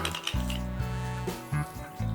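A commemorative 5-hryvnia coin, the 2025 European elk issue, is handled as it comes out of a zip-lock bag, giving close, clear metallic clinks and soft crinkling in a few short bursts, with no talk.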